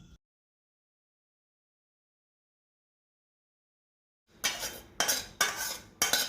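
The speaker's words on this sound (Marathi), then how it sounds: "असं 5 मिनटं हलवून घेते आणि मग काढून घेते ते" A mixture stirred in a hot kadhai, with several sharp metal scrapes and clatters of a spoon against the pan arriving after a long stretch of silence, close and fairly loud.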